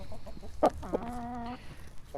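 A rooster gives a short burst of clucking followed by a drawn-out, wavering call, close by, over faint background noise.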